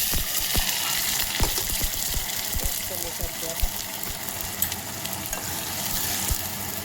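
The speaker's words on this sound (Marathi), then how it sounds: "मी गंजामध्ये तेल पण टाकलेलं आहे तेल पण गरम झालेलं आहे आता याच्यामध्ये टाकते मी हे पेस्ट" Spice paste fries in hot oil in a cooking pot with a steady loud sizzle and crackle, broken by scraping stirs and clinks, while someone talks over it.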